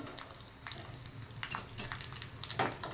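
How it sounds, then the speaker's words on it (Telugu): Raisins frying in a pan for jaggery pongal give a steady close sizzle with light stirring scrapes, continuous and moderately loud, with no talking. "ఇవి మంచిగా ఫ్రై చేసుకోవాలండి మాడిపోవద్దు"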